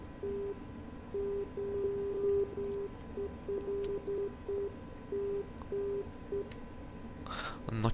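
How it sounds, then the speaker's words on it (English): Morse code identifier tone from an NDB navigation beacon in the DCS F-86 Sabre flight simulator: a steady mid-pitched beep keyed in short and long pulses over a hissing radio background, heard alone with a brief click at the end. "we also can identify it by listening to the Morse code, which we will do now"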